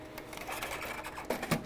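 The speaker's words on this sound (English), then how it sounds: "Just push it into the printer. It will grab the media and take it and load it" An Epson ColorWorks C6000 label printer grabs and loads label media, giving a faint mechanical whirring with small clicks and a couple of sharper clunks near the end.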